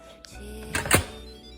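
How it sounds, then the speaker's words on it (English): An Instant Pot lid is set on and turned into place, a light knock followed by a brief scraping clatter, close and moderately loud in a quiet kitchen. "put the lid on"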